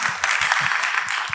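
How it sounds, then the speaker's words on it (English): Audience at a university event clapping together in a dense, steady patter of applause, moderately close, with no talking. "I think that deserves a round of applause"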